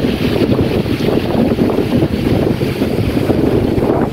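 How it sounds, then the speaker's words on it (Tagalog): Strong wind buffeting the microphone at the Auberge Discovery Bay seaside resort, a loud continuous roar with gusty rumbling surges and a faint wash of water beneath. "Mahangin guys, grabe."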